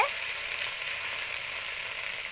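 Ginger paste and dry red chilli paste frying in oil in a pan while being stirred, a steady close hiss of sizzling with no voices.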